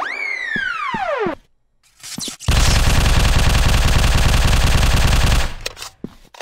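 Sustained automatic gunfire in the game Machine Hunt, a loud rapid rattling burst of about three seconds, preceded by a descending electronic whine and brief quiet, ending in scattered clicks.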